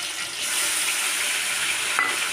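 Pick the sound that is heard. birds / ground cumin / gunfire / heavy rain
ground cumin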